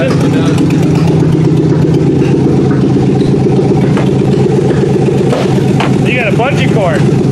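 A Chevrolet Suburban engine runs rough with misfiring cylinders, a loud, steady uneven idle throb close by, with people talking over it.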